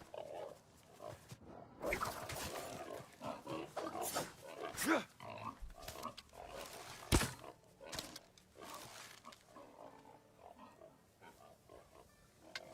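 Rough, snorting pig grunts come in irregular bursts throughout, fairly close, with some louder squeals and shuffling noise mixed in.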